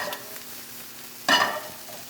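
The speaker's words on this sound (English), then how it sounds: "Nice hot pan. And I want to sweat out my onions." Onions sweat in a hot pan with extra virgin olive oil, giving a faint steady sizzle broken by one short, louder burst of stirring partway through.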